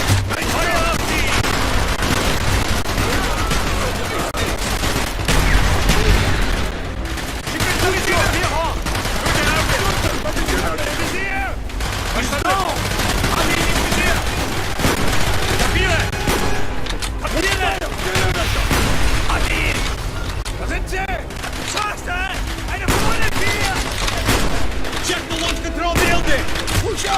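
Dense gunfire and explosions from the video game Call of Duty Black Ops, with rapid automatic bursts, booms and a constant battle din, loud and unbroken, while soldiers shout over it.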